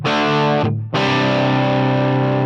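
Distorted electric guitar played through a real amplifier, loud sustained chords ringing with a brief cut-off and re-strike midway, then held steadily to the end.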